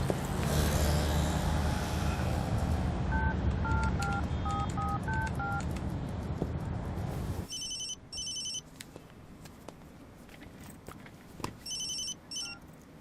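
A telephone line newly installed by the phone company plays dialing tones: a quick sequence of keypad beeps over loud ambient noise, followed by short, repeated high electronic ringing bursts in quieter surroundings.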